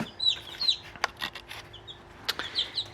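Baby chicks a few days old, kept together indoors, give short high peeps and chirps in scattered bursts, fairly faint, with soft rustling movement between calls.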